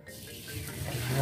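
Water from cooked carbonara pasta pours out as it drains, a short, soft, rushing gush close by that grows slightly louder toward the end.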